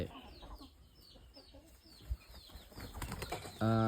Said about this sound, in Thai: ตัวนี้เป็นไก่ ปากไวครับไก่ใช้ปากมีแข้งหน้าเล็กน้อย